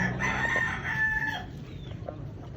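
Chickens cluck and a rooster crows nearby at feeding time, several overlapping bird calls over a steady low background hum.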